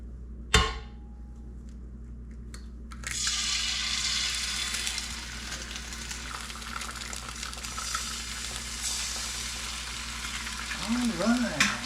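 Eggs frying in an Elite Gourmet 16 by 13 inch electric skillet: a sharp clatter, then a steady close hiss of sizzling fat that swells and holds, with a faint whirring near the end.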